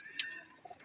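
Pigeons of a fancy ringed-eye breed cooing at close range, with a soft brief coo near the start and another faint call toward the end over a low room hum.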